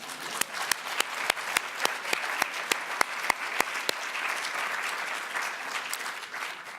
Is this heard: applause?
yes